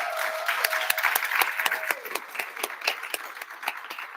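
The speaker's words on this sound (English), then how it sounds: "Let's give them a round of applause." A room applauds event staff at a spring 2025 graduation celebration for non-traditional students; the clapping comes from a modest-sized audience as a steady patter of distinct individual claps lasting several seconds.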